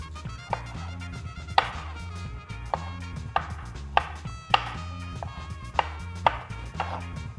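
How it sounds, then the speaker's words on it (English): A knife chops tomatoes into small pieces on a cutting board, giving a steady run of crisp, close thuds at an uneven rhythm, with no talking. "now we're going to want to cut these tomatoes in some pretty small pieces"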